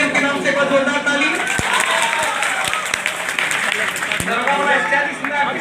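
A hall audience claps loudly for a women's battalion, a dense, steady wash of applause that holds for several seconds with crowd noise underneath and a few sharper claps standing out.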